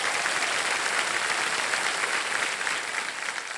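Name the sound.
applause welcoming the contestant's father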